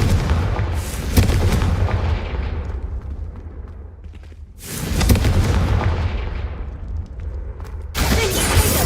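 Confringo fire spells in Hogwarts Legacy explode in three heavy booms, each with a bright crack and a rumbling tail that fades before the next blast hits, loud and close.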